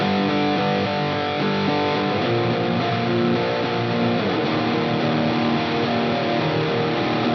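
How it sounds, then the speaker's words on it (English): Heavily distorted shoegaze guitar chords wash together under thick reverb, sustained and hazy, forming a loud, dense wall of fuzzy, smeared sound. "the reverb fading into the distortion to give it a very washed out, kind of dirty sound"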